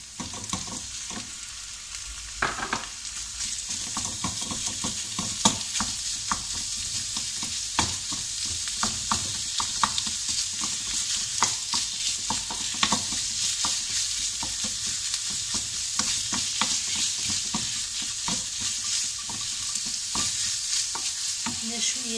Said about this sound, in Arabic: من بعد ما تشحرات البصلة دابا غادا نضيف عليها الكفتة